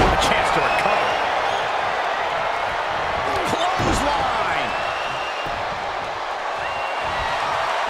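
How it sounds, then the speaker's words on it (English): A dense, steady roar from a wrestling arena crowd in WWE 2K24 fills the scene, broken by a few dull slams, while a commentator talks over it. "The sound of this crowd is deafening"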